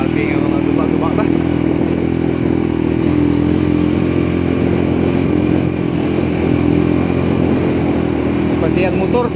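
A motorcycle engine drones loud and steady while riding a damaged, flooded road after landslides in Barangay Malublub, Leon, Iloilo, with rattling and speech mixed in throughout.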